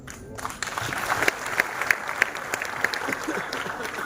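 Audience applause at a grand civic felicitation ceremony in Ulwe for a veteran actor, a steady sustained clapping from a large crowd with a few sharper individual claps standing out, loud and continuous with no talk over it.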